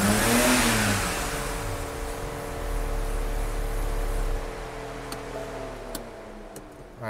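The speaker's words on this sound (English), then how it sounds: "Wastegates are rattling like crazy." BMW E90 335i with N54 twin-turbo engine idling roughly with rattling wastegates, a steady close mechanical drone with faint ticking and a few sharp clicks toward the end, no talk.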